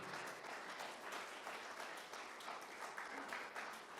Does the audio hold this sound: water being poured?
no